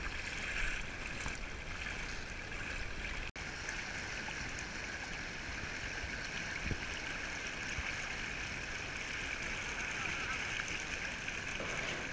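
Rushing water runs steadily throughout, a wild river flowing over rapids, with faint thumps and scraping as boats are hauled through it by a team.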